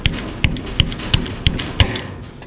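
Sharp, even taps knock a part down into a homemade low-budget joystick, six close, loud hits at a steady rhythm with no talking.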